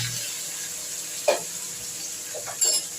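Minced garlic and ginger fry in oil in a pan at home, giving a soft, steady sizzle with a few light stirring clicks and scrapes.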